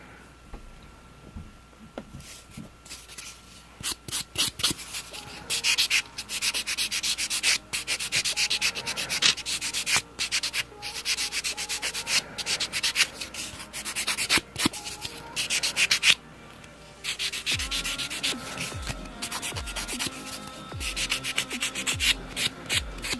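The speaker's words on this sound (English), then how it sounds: "I did end up buffing them out, so hopefully I'll have a smoother look to the finish." Nail buffer rubbed back and forth over gel-polished fingernails, giving dense bursts of dry scratchy friction in uneven strokes, fairly close, with short pauses and no talking.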